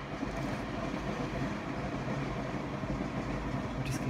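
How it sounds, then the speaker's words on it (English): A subway train rumbles past continuously, a steady loud low roar with faint rattling throughout. "I'm just going to wait for the subway to go by."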